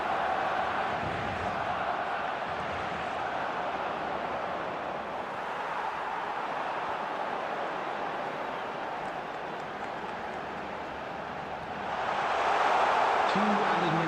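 Stadium crowd in the eFootball football video game roars steadily throughout, a dense continuous wash of cheering that swells louder near the end.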